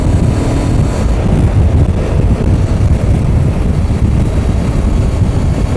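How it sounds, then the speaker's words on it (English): Voge DS 625X motorcycle pulling hard at full throttle in sixth gear, a steady loud engine drone buried under heavy buffeting wind roar from start to finish, no talk. "I'm just going to open the throttle and see how it pulls in top."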